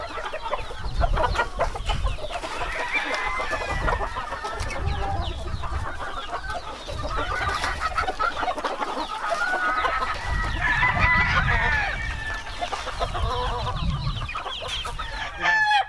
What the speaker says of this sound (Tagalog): Ayan po mga sabong yung mga ginagamit niya dito.